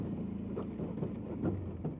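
A Kawasaki Brute Force 750 ATV that was leaking oil idles with a steady, low, throbbing engine note that rises slightly in a few small revs and stays fairly quiet.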